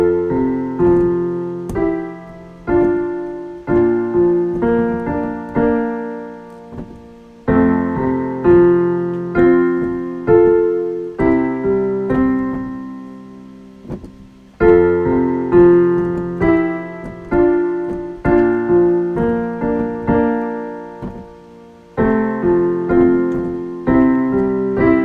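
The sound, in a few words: piano left hand accompaniment pattern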